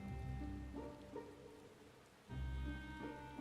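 Heavy in-game rainfall from Final Fantasy XIV, a steady loud wash of rain over a low rumbling bed with tonal game music layered on top, briefly dipping in the middle before swelling again; no talking.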